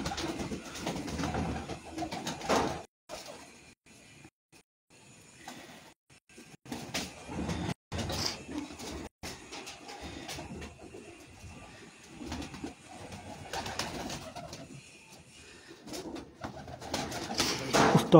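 Pigeons kept by a fancier coo intermittently in a loft, soft repeated calls close by amid shuffling and background noise.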